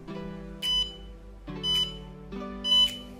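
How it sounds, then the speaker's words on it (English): Short electronic beeps from a baby-in-car alarm device, three brief high-pitched tones spaced about a second apart over a steady low electronic hum. "short beep is heard."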